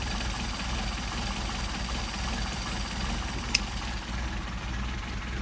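A Mercedes-Benz 190SL engine with Solex carburetors idles steadily at about 400 to 500 rpm with a low, even rumble throughout, and one brief sharp click partway through.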